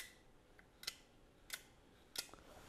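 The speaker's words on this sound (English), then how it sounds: "you can hear it clicking back and forth" A small plastic underhood convenience light assembly from a truck clicks back and forth as it is rocked by hand, giving three sharp, close clicks spaced about two-thirds of a second apart over a quiet background.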